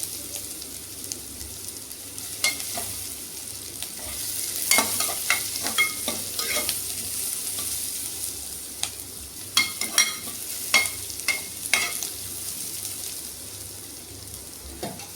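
Onions sautéing in a pan for a kurma give a steady close sizzle, with sharper scraping stir strokes bunching in bursts through the middle and later part, and no talking.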